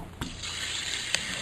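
A steady rush of running water filling a water main lateral and meter through plumbing, with a couple of sharp knocks, one near the start and one later.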